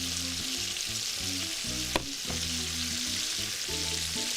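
Onion sizzles steadily in a pan with peppers and hotdogs, a constant close frying hiss with one sharp knock of utensil on the pan midway.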